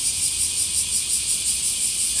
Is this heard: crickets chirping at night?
yes